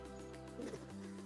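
Pigeons coo softly in a short, low, murmuring burst during an attempt to catch a new pigeon, a faint nearby call with no talking over it.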